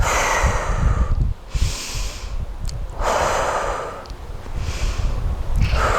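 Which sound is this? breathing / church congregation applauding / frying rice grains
breathing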